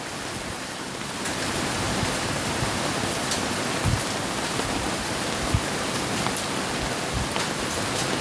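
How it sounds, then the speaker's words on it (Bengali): Heavy rain in a storm in Kapasia upazila, a steady dense roar that swells after the first second and stays loud throughout, with a few louder knocks near and no voices. "বৃষ্টি পড়তেছে"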